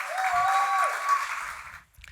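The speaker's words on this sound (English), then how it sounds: "Please give him a round of applause." An audience claps for a poet at a poetry reading. The applause is short and muffled and has a tonal, slightly distorted quality, then fades out after under two seconds.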